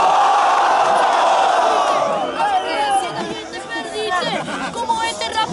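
Crowd at a freestyle rap battle tournament final cheers and shouts in a loud, excited burst that fades into scattered whoops and chatter, with voices heard among the crowd.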